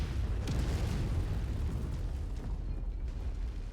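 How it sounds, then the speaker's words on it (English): Enemy artillery in Mechwarrior 5: Mercenaries explodes in a continuous deep rumbling barrage, booming and rolling throughout with a sharper blast near the start and no voices. "Oh, hey, artillery."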